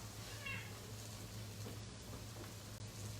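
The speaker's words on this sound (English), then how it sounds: "I've got a cat yelling at me over here." A house cat meows once, faint and brief, in a home kitchen while bacon cooks for coq au vin, over a steady low hum and light background noise.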